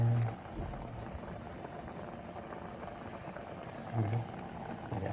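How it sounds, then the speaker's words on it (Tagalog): Milkfish and pork paksiw simmering in a pot on the stove: a steady, soft bubbling boil throughout, with brief clinks near the start and end. "Pakuluan na natin muna."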